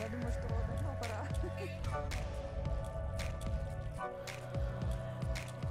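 Waves wash over the pebbles and rocks of a pebble beach at Cape Vyatlin on Russky Island, Russia. Soft, steady clattering and gurgling with irregular small knocks goes on throughout, fairly faint and close.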